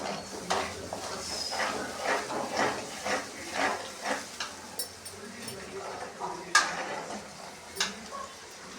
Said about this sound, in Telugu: ఈ ఆయిల్లో మిగతా అల్లం పేస్ట్ బాగా ఫ్రై చేసి కొంచెం సిమ్లో పెట్టి ఇలా తిప్పుగా